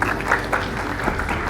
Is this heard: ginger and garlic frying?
no